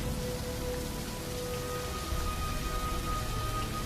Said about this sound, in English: Come on out of the rain now.